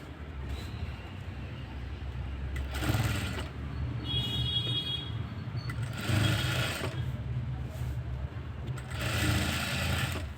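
Sewing machine stitching alongside the piping on a blouse, a steady close mechanical whir with louder bursts of running stitches at intervals, no talking.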